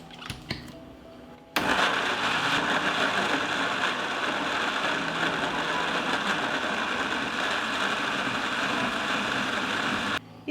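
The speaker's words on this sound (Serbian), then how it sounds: "Isekla sam paradajz i stavit ću ga u blender" Blender grinding cut tomatoes: after a brief clatter, the motor starts abruptly and holds a loud, steady, dense whir for about nine seconds before stopping, with no speech over it.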